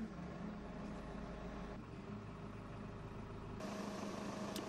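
A Volvo wheeled excavator's diesel engine runs after the key is turned, a steady low idling rumble with a slight change in tone partway through, close and continuous with no talk.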